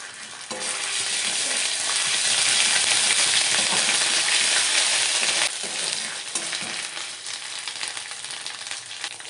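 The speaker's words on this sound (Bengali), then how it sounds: "দেখুন তেল ছাড়ছে উপর থেকে, মশলা কষানো হয়ে গেছে" Ground spice paste of chili and ginger frying in oil with stirring: a loud, dense sizzle that swells in the first seconds, then eases slightly after a few scrapes of the spoon.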